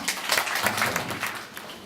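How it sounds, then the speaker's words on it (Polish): Audience applause at an author's evening, a short, steady round of clapping heard fairly close throughout. "Wielkie brawa."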